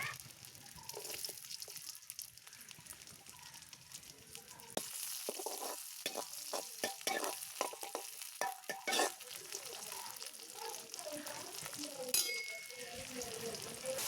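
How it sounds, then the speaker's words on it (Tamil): Green chillies and onion hit hot oil in a pan at an outdoor beach cook-up, giving a steady sizzle that swells louder midway, with clattering stirs and a brief splash of water over the frying. "எண்ணெய் சூடாயிட்டது. பச்சை மிளகா வெங்காயத்தை போடுவோம்."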